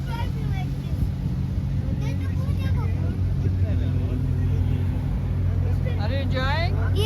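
Motorboat engine on Attabad Lake in Hunza, a steady low drone running throughout while several people talk over it.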